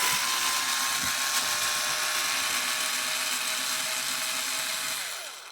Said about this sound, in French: J'utilise le tournevis électrique.